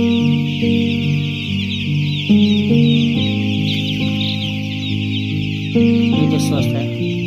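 Poultry chicks on a farm chirping and peeping in a dense, continuous chorus, with a few louder clucks and calls rising above the flock.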